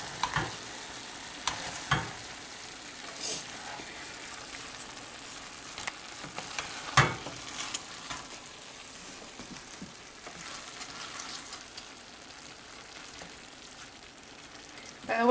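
Food sizzles and fries in a pan as a utensil stirs it, giving soft scraping strokes and occasional clinks over a steady low crackle, close by and without speech.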